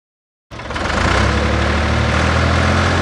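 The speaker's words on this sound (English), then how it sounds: "Fire up your tractor and celebrate the spirit of 76." A tractor engine catches abruptly after a short silence and settles into a steady, loud, rumbling idle that stays close and even, with no voices.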